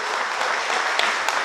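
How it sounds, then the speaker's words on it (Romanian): An audience at a folk traditions festival applauds performers, a steady dense wash of clapping with a few sharper claps standing out. "Vă rog să-i aplaudați"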